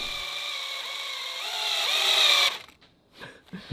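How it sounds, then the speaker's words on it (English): A steady electric drill whirs at close range for about two and a half seconds during bronze fitting work on a wooden boat, its pitch bending slightly, then cuts off, leaving faint clatter. "We thought we'd also try the regular drill too."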